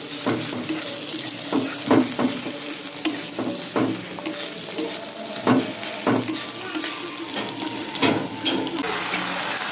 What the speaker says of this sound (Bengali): কড়াইয়ের মধ্যে তেল দিয়েছি, সাদা জিরে ফোড়ন দিয়েছি, দিয়ে দিয়েছি কুচানো পেঁয়াজ